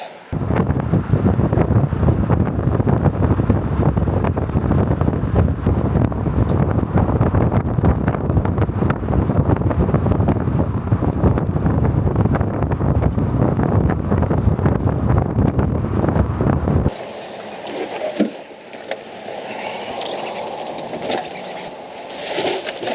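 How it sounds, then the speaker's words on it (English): Strong mountain wind buffets the microphone in a loud, continuous roar for most of the stretch, then drops abruptly to a quieter, gustier rush near the end. "Wind's getting up. Getting up into the mountains."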